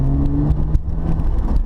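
A Porsche 911 Carrera S of the 997 generation drives gently, its engine giving a low, close, steady drone with a brief tonal hum fading early, under muffled cabin noise.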